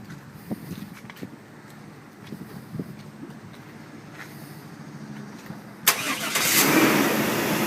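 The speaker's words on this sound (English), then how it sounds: "So we'll start the vehicle up" A car engine cranks and catches near the end, rising into a loud, steady run after a stretch of quiet handling noises and soft knocks, heard alone and close.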